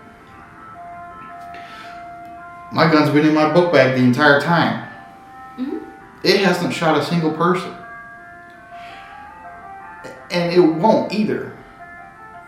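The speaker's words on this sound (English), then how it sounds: "ice cream truck." A faint ice cream truck jingle plays as thin sustained tones in the background, mostly beneath someone talking in the foreground.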